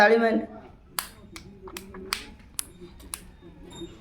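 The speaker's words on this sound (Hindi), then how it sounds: "ताली मार" A baby claps its hands, about six light, irregularly spaced claps following a brief adult voice at the start, close and fairly soft.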